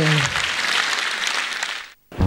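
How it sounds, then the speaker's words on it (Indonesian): Audience applause at a stand-up comedy show fills the room loudly and steadily for about two seconds, then cuts to a brief silence before a voice starts. "Langsung aja kita berikan tepuk tangan untuk Zawi."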